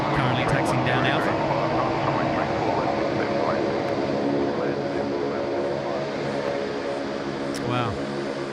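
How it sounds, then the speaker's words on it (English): A Qantas airliner taxis at Sydney Airport, its engines a steady, moderately loud jet rumble and whine throughout, with faint voices over it. "Just on screen there is Qantas 127. It's going to be off to Hong Kong. Currently taxiing down Alpha."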